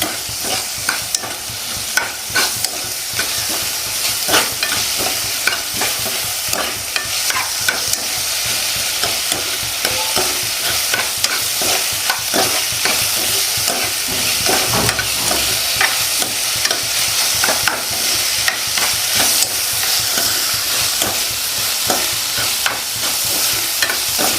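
Chopped tomatoes sauté in a soybean curry, with constant sizzling frying and frequent scraping strokes of a spoon against the pan, steady and close throughout with no voices.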